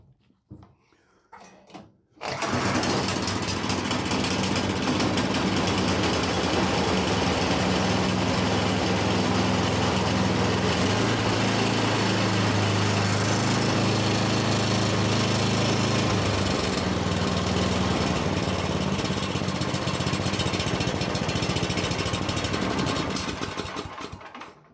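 A snowblower engine being started cold after a service: after a few faint clunks it catches abruptly and runs at a loud, steady, buzzing idle that does not rev up, then cuts off at the end.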